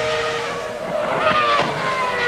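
Ferrari F2001 Formula 1 car driven by Rubens Barrichello on a qualifying attack: a loud, continuous high-revving engine whine with rising and falling pitch sweeps as the car passes, heard alone.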